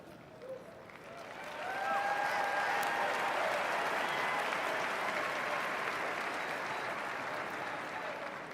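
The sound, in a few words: crowd cheering and applauding at presidential inauguration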